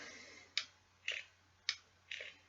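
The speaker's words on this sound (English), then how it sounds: "there's a clicking." Repeated clicking from a Theorem RDTA atomizer on a Praxis Decimus vape mod, four sharp clicks evenly spaced about half a second apart, each with a short hissy tail, close and clear over a faint steady hum.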